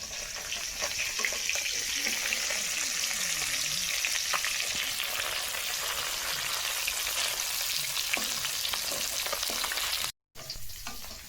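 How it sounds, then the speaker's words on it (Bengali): Catfish frying in oil in a wok gives a continuous, close sizzle with fine crackles that stays steady for about ten seconds, then cuts out briefly before resuming. "আমার মাছ ভাজা এক পাশ ভাজা হয়ে গেছে এখন আমি অপর পাশটা উল্টে নেব"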